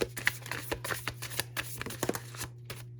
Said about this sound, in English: Let's pull 4 cards to start.